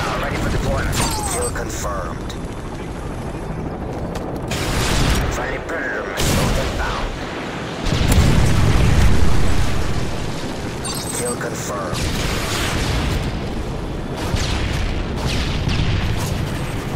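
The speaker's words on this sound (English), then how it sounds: "Friendly predator missile." Predator missile strikes in Call of Duty: Modern Warfare 3, heavy booming explosions with rumbling blasts at intervals, the loudest near the middle, mixed with game voice callouts and gunfire.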